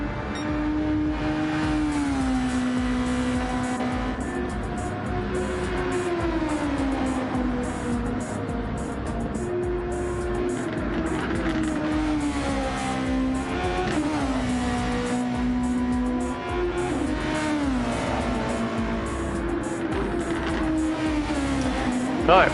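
Race car engines in a Formula racing video game, a continuous whining drone with pitch sweeping up and down through gear changes and revving, several cars overlapping at steady volume.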